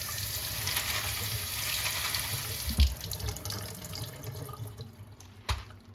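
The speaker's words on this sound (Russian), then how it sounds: "Я ее промываю. Видите, какая грязная вода." Water runs and swirls in a container as the roots of a hoya plant are rinsed, a steady close wash of flowing water with a couple of sharper knocks and splashes near the end.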